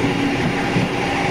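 The Argo Bromo Anggrek passenger train running at full operational speed of about 117 to 119 km/h, a loud continuous roar of wheels and rushing air heard from inside the carriage.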